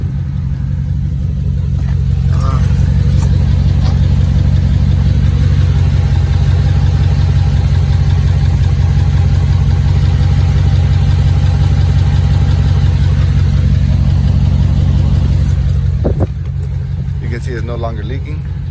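A car engine idles steadily after a cold start, a close, loud, even rumble with a faint ticking texture running throughout, and a brief disturbance near the end.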